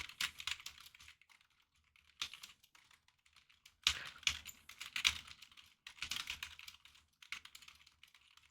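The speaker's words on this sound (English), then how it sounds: "Everybody gets to hear my loud ass keyboard." Bursts of typing on a loud computer keyboard, rapid clustered clacks in several short runs separated by brief pauses, close and fairly quiet overall.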